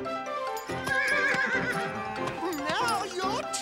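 A cartoon horse neighs loudly in the Miss Mallard Mystery animated game, a long wavering whinny with snorts and a few hoof clops, mixed with an excited voice.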